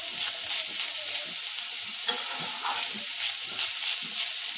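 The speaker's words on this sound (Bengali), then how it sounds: "ভালোভাবে নেড়ে নিলাম।" Banana stem (thor) fries in a little oil with a continuous close sizzle and crackle while it is stirred, and soft scraping strokes recur throughout.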